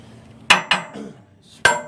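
A hammer strikes truck parts under the front of a rig during a CDL pre-trip inspection, giving three sharp metallic taps, close and loud, with short ringing decays and no talk.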